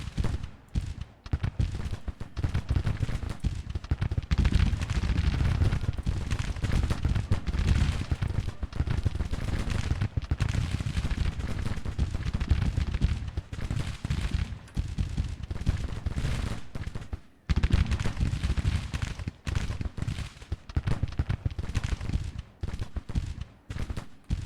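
Rolling musket volleys crackle from massed infantry in a Civil War battle in the strategy game Grand Tactician, a dense, continuous patter of shots with a short lull near the end.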